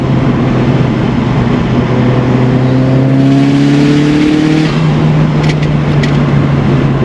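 A turbocharged 380 hp Mitsubishi Lancer Evolution 6 accelerating hard, the engine note climbing steadily and loud through the gears, heard from close by with no talk.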